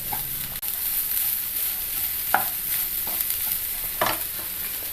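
Chopped banana flower being stirred into a hot pan for a Kerala thoran, the spoon scraping in a few distinct strokes over a steady close sizzle.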